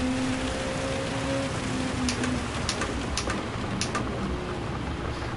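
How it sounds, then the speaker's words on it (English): Rain falling steadily during a race in Gran Turismo 7, a constant dense hiss of drops with a few sharper ticks and a faint tonal hum early on. "rain's about to start easing off"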